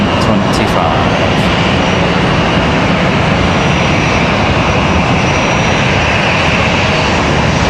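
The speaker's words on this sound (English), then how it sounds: "Delta, that A321 diversion departing back to Atlanta" Delta Airbus A321 jet departing Raleigh-Durham International, a loud, steady engine roar filling the whole stretch with dense broadband rumble and no break, close and continuous throughout.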